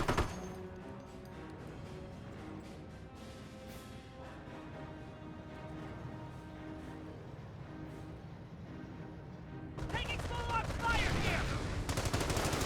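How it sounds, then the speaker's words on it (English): .30 cal machine gun fire in Company of Heroes, rapid and fairly faint, mixed into a busy battle soundscape with other weapons, growing louder and denser near the end. "30 cal firing away"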